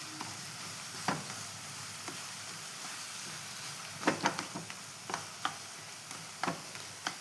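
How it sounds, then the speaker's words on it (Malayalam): Banana pieces sauté in ghee in a pan, a soft, steady sizzle close by broken by a handful of sharp spoon clicks and scrapes. "ഈ പഴം നെയ്യിൽ വഴറ്റിയാൽ"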